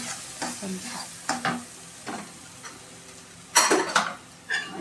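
Grated coconut with sesame and cumin paste being stirred into chicken curry in a pot, with scattered scrapes and knocks of a spoon against the metal over a low sizzle, the louder strokes coming near the end.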